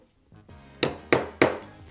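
Three evenly spaced sharp metallic strikes ring out as a hammer drives a small dapping punch into copper, each hit loud and close with a short ringing decay, preceded by a couple of softer taps.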